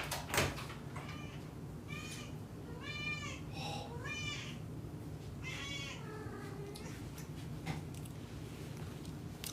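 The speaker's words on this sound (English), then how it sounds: "Hold on, let me let this cat in." A cat meows repeatedly at a door, several distinct plaintive calls spaced over a few seconds, fairly close against a quiet indoor background, with a soft knock at the start.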